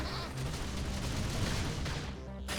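Gunfire from a battle in the video game Xenoblade Chronicles X, a dense, continuous barrage of shots and booms lasting the whole moment, loud and busy, with battle voices mixed in.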